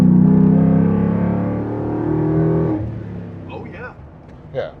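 A Ford F250 truck with a swapped-in 7.3 Godzilla V8 engine runs with a loud, steady low rumble that eases off partway through, and voices talk over the fading idle afterward.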